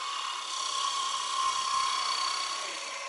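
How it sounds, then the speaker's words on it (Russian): A power tool shapes a wooden board for a komuz in a workshop, a steady high whine grinding continuously throughout. "Намазбек обтачивает доску."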